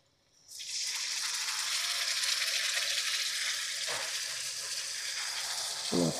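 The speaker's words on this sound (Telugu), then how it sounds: "చూడండి పచ్చిమిరపకాయ ఇది కొంచెం వేగిపోయిన తర్వాత ఇలాగా ఈ చింతపండు గుజ్జు వేసేసుకుందాం" Tamarind pulp poured into a pan of frying green chillies sets off a loud, steady sizzle that bursts in suddenly and holds, with a brief stir or clatter near the end.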